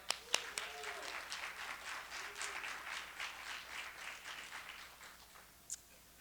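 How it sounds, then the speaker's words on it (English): An audience applauds steadily at a book launch as the author walks onto the stage, a dense patter of clapping that holds for several seconds, with a brief voice early on and a single sharp clap near the end. "keep that applause going because the wonderful author herself is coming out to the stage"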